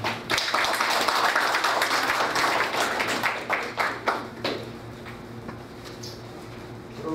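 Applause at a Korean community association general assembly in Atlanta, scattered clapping that fills the room at first and then thins to a few isolated claps near the end.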